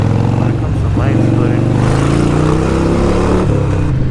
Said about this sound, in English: The exhaust gives you that extra confidence that it's loud, people will hear you.